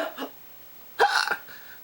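A voice imitates a penguin's hiccups: two hiccup-like sounds, a short faint one near the start and a louder, longer one about a second later, close and clear with no other sound.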